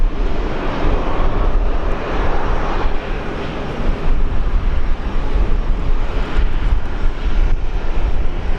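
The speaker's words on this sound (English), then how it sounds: "looks like we have a Qantas Link Q400 Q400. departing here." A QantasLink Q400 turboprop departs Brisbane Airport, its engines a loud, steady, broadband roar that holds for the whole stretch with slight swells, with some wind buffeting the microphone.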